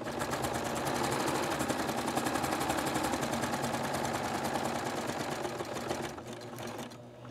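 A serger sewing machine stitches fabric in a fast, even mechanical chatter, close and steady for about six seconds before slowing and stopping, with no voices over it.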